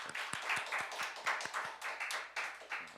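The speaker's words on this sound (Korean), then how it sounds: "우리 환영의 박수 한번 치겠습니다" A church congregation at a New Year's Eve service claps in welcome for a visiting guest, a room full of hands beating in a quick, uneven patter that holds steady, close and moderately loud, with no talking over it.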